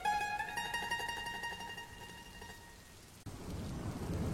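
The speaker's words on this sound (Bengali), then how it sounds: "এরকম ঝিরঝিরে বৃষ্টিতে আগে কত ফুটবল খেলেছি বল" Light drizzle falls in a Bengali fairy-tale cartoon. Tonal music plays at first, then a steady hiss of rain rises and continues after a sudden cut, with no talking.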